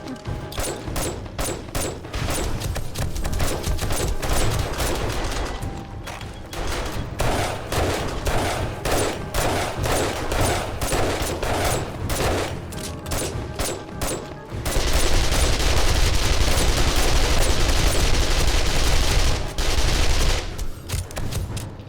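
MP5 turret in 7 Days to Die firing sustained automatic bursts, dense and loud, with a brief pause before a heavier continuous stretch of gunfire near the end.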